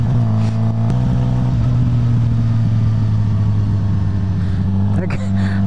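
Afternoon road traffic heard from a moving motorcycle, with a steady mid-pitched engine drone and passing vehicle noise running loud and continuous throughout.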